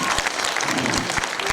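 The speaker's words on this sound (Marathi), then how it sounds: "आज्या पहिल्या कार्यक्रमापासून आहे जोरदार टाळ्या आज्यासाठी." An audience claps at a Marathi comedy show, loud and close, with dense, steady applause across the whole short stretch and a few sharper individual claps standing out.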